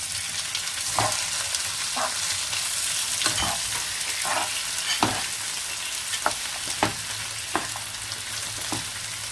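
Onions and spring onions frying in a kadhai for achari paneer as chopped tomatoes are added, a steady hiss of oil broken by sharp scrapes and knocks of a spoon stirring, close and fairly loud, no talk.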